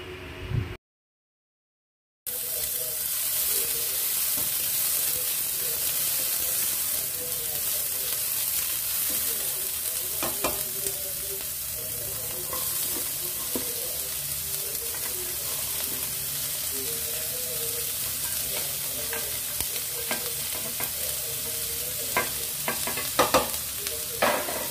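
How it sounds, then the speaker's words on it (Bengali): Onion, capsicum, ginger, garlic and green chilli sauté over high heat in oil, giving a steady, loud sizzle with frequent stirring scrapes and clinks throughout, after a brief silent gap near the start. "তারপর একে একে ক্যাপসিকাম, আদা, রসুন, কাঁচা লঙ্কা সব দিয়ে হাই হিটে সটে করে নেব"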